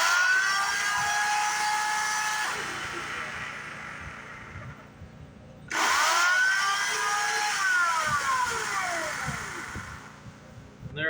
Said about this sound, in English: You can hear that motor free spin